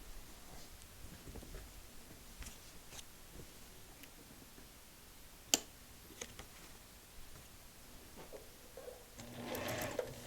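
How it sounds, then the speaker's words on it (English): A sewing machine stitches a short run through fabric while paper piecing a star quilt block, faint and intermittent with a few sharp clicks and a louder whirring burst near the end. "I'm going to stitch it just a little bit,"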